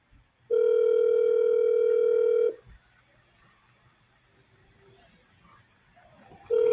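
A telephone ringback tone sounds while a call is placed: one long, steady electronic tone lasting about two seconds, then a quiet gap with faint room noise, and the next tone beginning right at the end.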